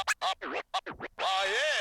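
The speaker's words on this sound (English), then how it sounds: "I decided to add the scratch loop." Quick turntable scratches, a burst of short rubbery back-and-forth swipes ending in a longer sustained warped tone, loud and close.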